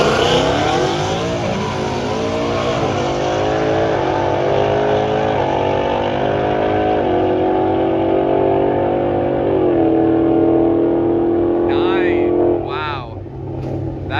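Toyota Supra on slicks accelerating hard in a street race, its engine roaring loud and close as revs climb through repeated gear changes before easing off near the end.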